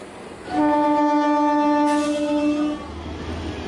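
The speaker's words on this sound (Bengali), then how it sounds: "একটু পরে ট্রেন ছাড়ল।" A train pulls away from Ramrajatala station with a loud, sustained horn blast lasting about two seconds, followed by a low rumble of wheels as it starts moving.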